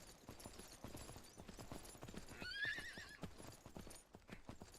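In the video game Myth of Empires, horse hooves clip-clop in a steady walking rhythm, and partway through a horse lets out a bright, wavering neigh.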